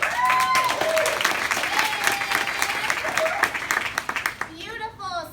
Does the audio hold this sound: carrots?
no